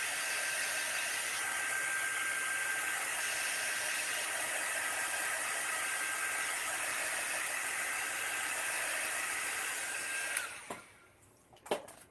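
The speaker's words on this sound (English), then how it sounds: "Just let me grab my dryer real quick." A hair dryer blows steadily for about ten seconds to dry acrylic paint, giving a loud, even whooshing hiss, then clicks off, leaving a few faint handling noises.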